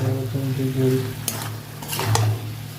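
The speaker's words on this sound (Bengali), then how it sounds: "ধনে গুঁড়ো, সমস্ত মশলা দিয়ে নিয়ে কষে নেব" Ground spices, including cumin and coriander powder, are stirred and sautéed in a pan for a Bengali curry. A steady sizzle runs throughout, with scraping stirs and a couple of sharper spatula knocks. No one speaks.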